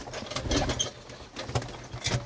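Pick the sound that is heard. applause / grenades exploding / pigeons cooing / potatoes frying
pigeons cooing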